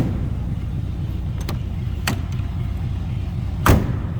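Doors on a 1940 Cadillac Series 60 touring sedan close with a few sharp latch clicks, then one heavy, near thud near the end, all over a continuous low engine idle.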